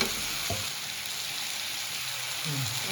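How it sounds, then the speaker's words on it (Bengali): Food frying in a pan for a Bengali home recipe, a steady broadband sizzle throughout with a couple of brief stirring scrapes near the start and end, fairly close. "একটু ভালো করে নাড়িয়ে নিলাম"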